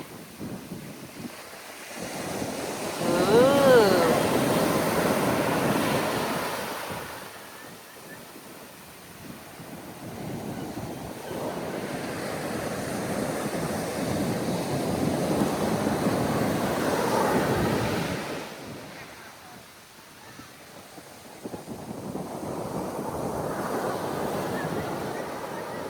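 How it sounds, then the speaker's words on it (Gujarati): Sea waves on a beach in Portugal wash in and recede in slow, swelling surges, with wind buffeting the microphone and faint activity in the background. "દરિયો ને કાંઠો"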